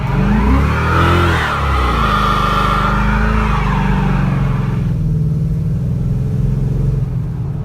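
A car engine revs hard during a line-lock burnout and holds at high revs, loud and close, then the pitch drops and settles into a steady drone.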